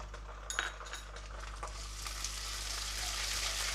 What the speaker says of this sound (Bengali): পেঁয়াজ কুচিটা খুব ভালো করে ভেজে নেব। পেঁয়াজটা ভালো করে ভাজা হয়ে গেছে, এবার আমি আদা বাটাটা দিয়ে দিলাম।